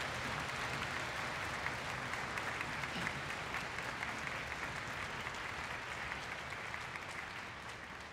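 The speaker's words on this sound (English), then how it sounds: "So let's give a round of applause to them" A concert audience gives a sustained round of applause after an orchestra's performance, with a dense, steady wash of clapping that stays even throughout and fades slightly at the end.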